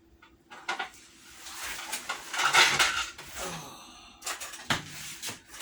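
Kitchen clatter as a spoon and plate are fetched for dehydrated gravy: close drawer and cupboard knocks and clinking cutlery and dishes in short bursts, with a busier rattle midway and a few sharp clicks at the end.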